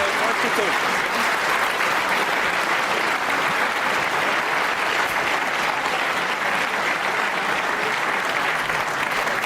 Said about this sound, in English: a prolonged round of applause for that double that Ryan there pulled off